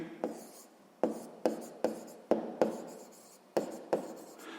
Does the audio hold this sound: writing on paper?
yes